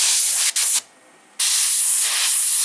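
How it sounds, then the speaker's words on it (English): Steady hiss of an airbrush spraying black paint onto a 3D printed figure in two close bursts, a brief pause and then a longer continuous spray. "Spray the outside black."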